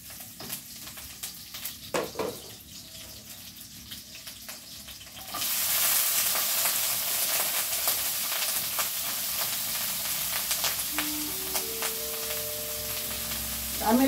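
Soaked anchovies drop into sautéing chayote in a pan. Scattered stirring clatter gives way to a loud, sustained sizzle and steam hiss, with utensil scrapes continuing close by.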